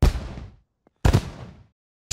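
Fireworks go off in the horror video game In Silence, two loud, sharp booming bursts about a second apart, each decaying into a crackling rumble, with a third starting just at the end.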